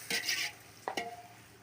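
Chopped green chillies are stirred into a pan while cooking chicken biryani. Two short scraping stirs are heard, the first longer and the second briefly ringing, close and moderately quiet.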